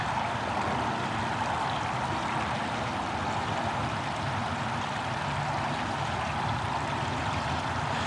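Floodwater from the Oxford canal and River Cherwell spilling over near Kings Sutton, a steady broadband rush and gurgle of flowing water running unbroken throughout with no voices.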